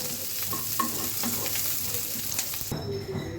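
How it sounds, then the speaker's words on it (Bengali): Onion frying in a little oil in a village kitchen, a steady close sizzle with occasional stirring scrapes, continuing alone without talk. "এই পেঁয়াজটা হচ্ছে একটু ব্রাউন করে ভেজে তারপর তুলে ফেলতে হবে।"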